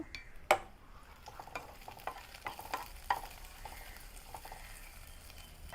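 Tempering being sautéed in a pan, quiet frying sizzle broken by several sharp spoon knocks and scrapes against the pan at an uneven pace, close but soft, no talking.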